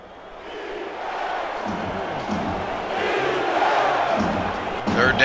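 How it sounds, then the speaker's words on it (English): Stadium crowd at a football game chanting "defense" with a rising, rhythmic roar that swells toward the end, broad and distant-sounding. "crowd chanting defense"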